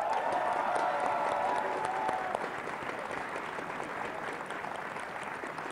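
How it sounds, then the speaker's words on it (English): At the IPL4 esports grand final between CLG and TSM, the crowd gives the tournament competitors a steady, somewhat distant round of applause with faint cheering mixed in and no speech. "Let's give them another round of applause."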